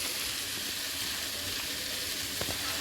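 Corn kernels fry in a pan with a steady, close sizzle and faint hiss, with a couple of light stirring clicks near the end and no talking.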